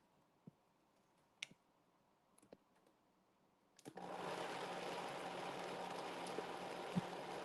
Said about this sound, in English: I'm gonna blend this very quickly in my liquefier